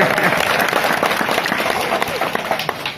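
A crowd claps steadily for Datta Bhau at a school gathering, dense applause filling all three seconds at an even level.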